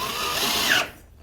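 A power drill boring holes into an airbrush case whines loudly and close for under a second, then cuts off abruptly into near silence.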